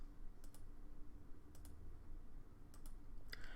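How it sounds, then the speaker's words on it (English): A computer keyboard is tapped in a few sparse, crisp keystrokes while a shortcut is being recorded in Creo Parametric CAD software, quiet and close against a low steady room hum. "And now it's just recording all my different keystrokes."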